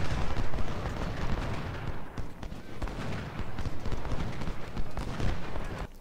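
Cannon and artillery fire thunders across a battlefield in Ultimate General: Civil War, a dense, continuous rumble of booms and gunfire rolling on throughout.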